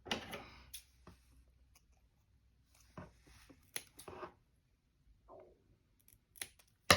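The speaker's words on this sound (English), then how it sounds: "I'm also going to cut these tabs off." Scissors snip paper tabs off a Hobonichi Cousin Avec planner, giving scattered crisp cuts and rustles at close range, with pauses of near silence between them.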